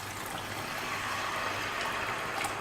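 Water pours steadily into a pot of baby potato biryani with mint, coriander and lemon juice, a soft continuous trickling and splashing, fairly quiet, with no voices.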